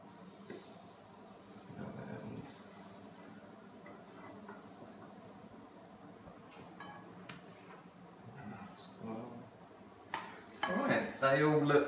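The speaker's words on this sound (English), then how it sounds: "Let's flip them all." Giant puffball mushroom schnitzels being flipped in a frying pan, with soft clatter of a spatula and pan over a low sizzle, growing louder and busier near the end.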